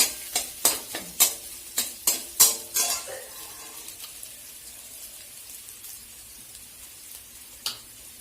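Potato samosa filling stirred with a metal spoon in a kadai, several sharp scraping clinks in quick succession over a soft frying sizzle, then the sizzle continuing faintly alone with one last clink.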